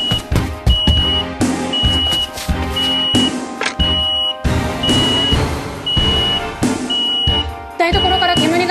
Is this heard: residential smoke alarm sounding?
yes